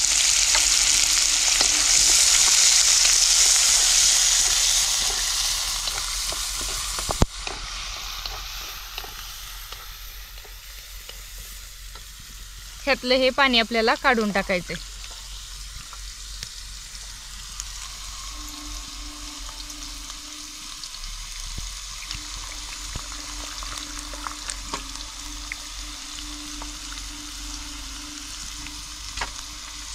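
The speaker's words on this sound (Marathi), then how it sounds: "जिरं, लसूण आणि कांदा. कांदा थोडा चांगला परतून घ्यायचा आपल्याला." Onion sautéing with cumin and garlic in a pan gives a steady hiss of frying with a brief burst of stirring noise partway through, fairly close and alone.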